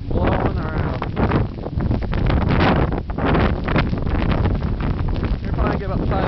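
Blizzard wind roars steadily outdoors in Plainfield during the 2011 storm, blowing snow around an unplowed street, loud broadband gusting buffets the microphone for the whole stretch.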